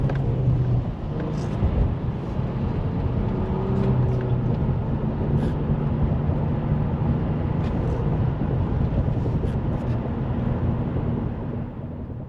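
A Nissan Xterra with a manual transmission accelerates from a stop at about half throttle, a continuous in-cabin engine drone and road roar rising steadily, with gear-shift dips and no talking.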